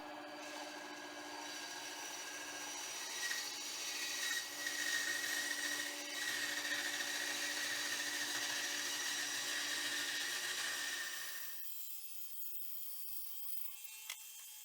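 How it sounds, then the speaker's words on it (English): A bandsaw cuts through a wooden sheet for a coffee table with a steady, faint buzzing rasp that holds for about eleven seconds, then stops abruptly, leaving a quiet hum and a small click. "So now it's onto the bandsaw to cut it out."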